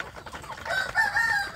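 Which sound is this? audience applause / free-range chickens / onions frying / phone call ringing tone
free-range chickens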